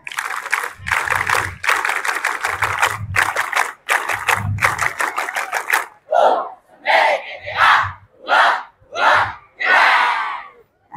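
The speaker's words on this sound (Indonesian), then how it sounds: "Coba tepuk pramuka sebentar." Students at a junior high school morning assembly perform the rhythmic Pramuka (Scout) clap chant: bursts of loud group clapping in a patterned beat, then shouted chant syllables in short, evenly spaced bursts, close and energetic.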